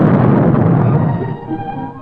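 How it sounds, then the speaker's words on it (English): Dynamite charges set off underground for seismic oil prospecting, a loud, deep rumbling blast that rolls on and slowly fades over about two seconds, with no voices. "with a little bit of dynamite, you set off some charges under the ground."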